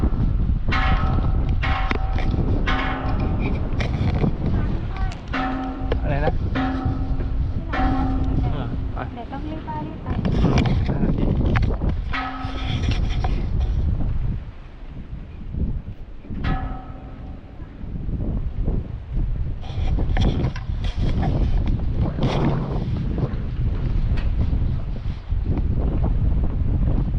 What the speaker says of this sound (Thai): ลมแรงจริงเนาะ